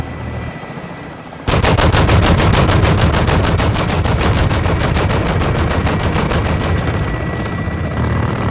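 Sustained rapid automatic gunfire erupts abruptly and hammers on at close range in Call of Duty Modern Warfare II played on PS5, a dense, loud rattle of shots.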